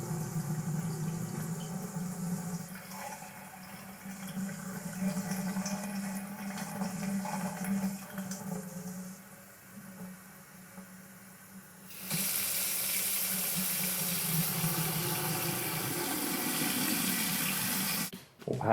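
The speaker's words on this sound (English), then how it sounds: "Maybe the tap running into the sink." A tap runs into a sink at close range, first as a softer trickle and then a sudden louder, steady gush of water that cuts off abruptly at the end.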